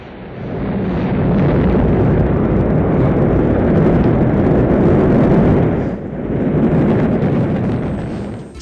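A cartoon rocket blasts off after a countdown, a loud sustained roar that swells, dips briefly and surges again before fading, with no talk.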